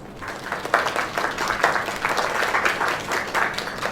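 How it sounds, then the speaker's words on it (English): Crowd applause from the video game Lake, a steady wash of clapping from an audience that holds for several seconds at moderate, even loudness with no voices over it. "Another round of applause."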